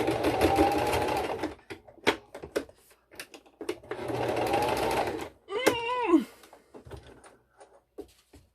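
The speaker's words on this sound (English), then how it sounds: "Let's pray that my machine does what it's supposed to do on its last round here" Sewing machine stitching a seam on a homemade fabric face mask: two long rapid mechanical runs separated by pauses, with clicks, fabric handling and a short whirring wind in between, plus brief talk.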